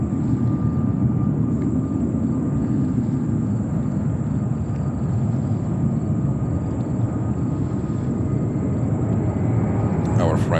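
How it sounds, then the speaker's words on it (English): An airplane takes off at JFK Airport, a steady, heavy jet roar rumbling continuously at moderate loudness, with a thin high whine running through it and a brief sharper sound at the end. "And we also have another takeoff."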